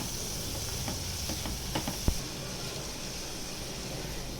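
Pointed gourd (parwal) with salt and turmeric sizzles steadily in a pan over a medium gas flame, a dense close hiss broken by a few soft stirring scrapes and a single sharp tap.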